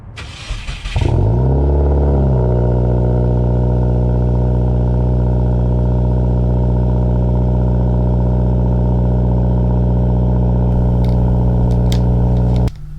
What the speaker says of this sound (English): And this is going to be a cold start.